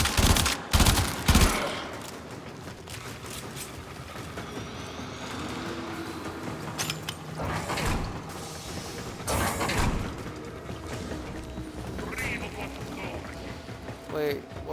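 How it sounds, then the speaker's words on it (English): Harpoon gun shots in an online video game, several loud sharp bursts and mechanical clanks scattered through the stretch, mixed with other game effects while a player talks throughout. "Don't you fucking shoot me with that harpoon gun"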